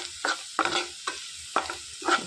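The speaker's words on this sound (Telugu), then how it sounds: "ఉల్లిపాయలు అనేవి మంచిగా ఫ్రై అయిపోయాయండి." Onions frying in a pan for a potato aloo fry, with a soft sizzle under four or five rhythmic stirring scrapes, close and moderately loud.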